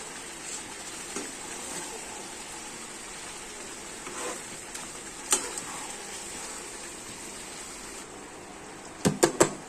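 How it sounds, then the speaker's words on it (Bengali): Tomatoes sautéing in a pan for mutton curry make a soft, steady sizzle, with occasional stirring taps and a few sharp utensil clicks near the end. "এটাকে দিয়েও আমি আবার একটু কষাবো"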